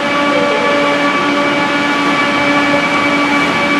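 West Midlands Railway class 323 electric train arriving at a Birmingham station, a loud steady rumble with sustained whining tones, no voices.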